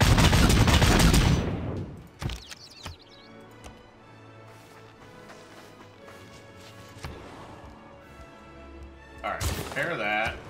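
Units in Civilization VI fire volleys, a loud burst of gunfire opening, then quieter thuds and clatter under a speaking voice, with another loud burst near the end.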